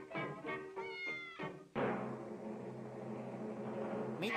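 A cat gives several clear, close meows in quick succession, followed by a longer drawn-out wail, with no talking.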